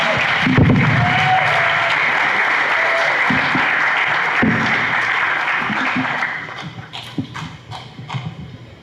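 An audience at an International Human Rights Day commemoration claps loudly and steadily, with a few heavy thumps near the start, then the applause tapers into scattered claps and murmuring.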